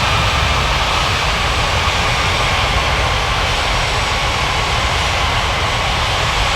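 Airliner engines taxiing at an airport in an air traffic control video game, a loud, continuous jet whine and roar that holds steady with no talk.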